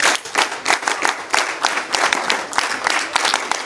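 NCC cadets at a national integration camp clap in a rhythmic, unified pattern of sharp beats, loud and close, with no talking.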